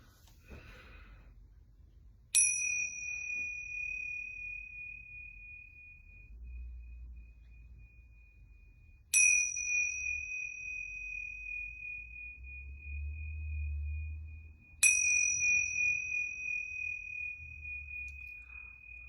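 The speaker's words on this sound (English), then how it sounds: "I'm going to ring these yoga bells 3 times." Yoga bells ring three times at even intervals in a quiet room, each strike a bright, clear tone that hangs and slowly fades before the next.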